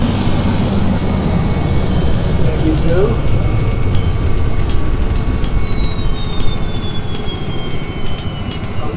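An Agusta-Bell AB412 helicopter's turbine whines steadily nearby as it is shut down, a high tone slowly falling in pitch over a broad rumble, with a brief word spoken.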